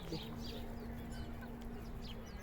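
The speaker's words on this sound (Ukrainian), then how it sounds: "І ось курочки ходять гарненькі." Soft clucking of chickens moving about outdoors, with faint chirps and a steady low hum in the background.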